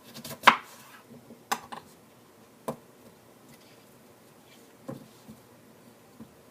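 Cucumbers are sliced in half with a knife on a cutting board, giving a few separate sharp chops spaced irregularly, close and clear against a quiet background.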